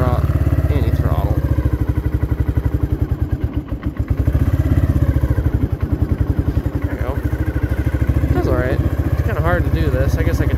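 A 1983 Kawasaki Prairie 250 three-wheeler engine runs close by with a steady, throbbing low drone and slight rises and dips in pitch throughout.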